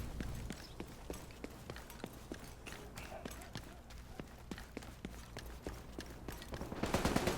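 Rapid, sharp gunshots in The Division 2 video game crack repeatedly at a fairly steady pace, with a muffled rumble underneath and a louder burst of noise near the end.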